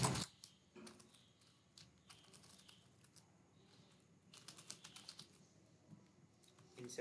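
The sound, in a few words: typing on a computer keyboard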